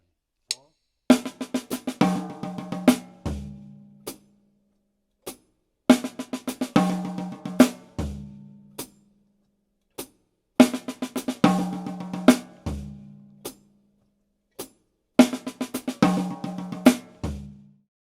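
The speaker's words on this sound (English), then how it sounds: "I orchestrated the first group of 6 notes on the snare drum and the next group on the small tom." Paradiddle-diddle sticking is played on a snare drum and small tom, four repeated bursts of quick, crisp strokes, each phrase ending on a lower ringing tom hit, separated by short pauses.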